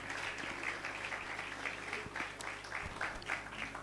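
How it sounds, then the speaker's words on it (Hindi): A church congregation applauding loudly in worship, a steady dense wash of many hands clapping together that fills the whole moment without pause. "खुदावंद के जलाल के लिए जोरदार तालियां बजाएं"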